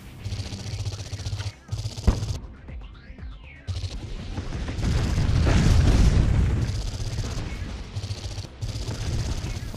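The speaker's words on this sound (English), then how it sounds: "Oops, something shot at us." Gunfire aimed at the player in the Xbox One game Project Root, loud booming shots and bursts blending with dense explosive rumble and game sound over about ten seconds, swelling to a heavy sustained roar midway.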